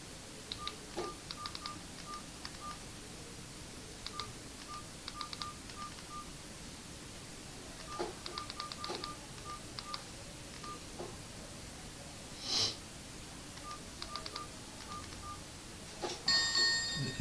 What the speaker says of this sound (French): Vous devez entendre le signal de réception.